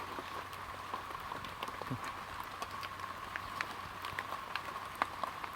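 Rain falls steadily outdoors during mushroom picking in the woods, with dense scattered droplet patter and occasional sharper drips over a constant soft hiss.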